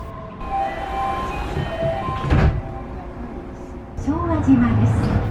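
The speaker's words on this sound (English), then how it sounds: "Here we are on the Tokyo Monorail to Haneda Airport." Tokyo Monorail train running toward Haneda Airport, with a steady rolling rumble and hum, a brief rattle midway and a rising whine near the end, while a voice talks over it.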